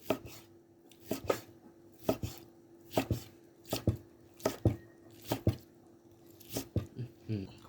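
A knife chops freshly grilled pork repeatedly on a cutting board, sharp thuds in uneven bursts of two or three, close up, over a faint steady hum.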